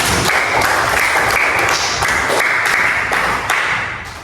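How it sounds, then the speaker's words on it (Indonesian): A school classroom claps for Mira, a dense burst of hand claps with some sharper taps that holds steady for about four seconds before thinning out at the end. "Kasih tepuk tangan buat Mira."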